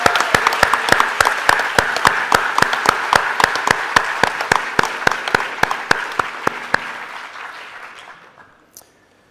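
A single person claps about two dozen times at a steady brisk rhythm in a symposium hall, each clap crisp and close, then the clapping stops and the room falls quiet.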